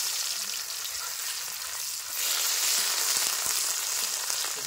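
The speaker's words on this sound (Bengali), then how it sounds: "তেল গরম হয়ে গেছে, এর মধ্যে আদা রসুন কুচি দিয়ে দেবো।" Chopped ginger and garlic hit hot oil in a wok, a steady loud sizzle that swells and intensifies midway, crackling on alone without any talk.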